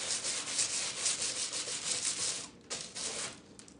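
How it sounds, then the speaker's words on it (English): A small stencil brush scrubs foil glue onto a piece of furniture, giving a steady, close, rasping rub that continues with little pause and only brief dips in level. "So then I'm just gonna scrub it on here."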